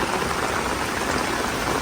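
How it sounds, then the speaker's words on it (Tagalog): Heavy rain pours down in a steady, dense hiss, loud and continuous throughout, with no voices over it. "Kahit malakas ang ulan."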